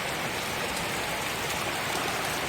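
Heavy rain without hail or wind pours down in a dense, unbroken hiss, loud and steady with no pauses or voices.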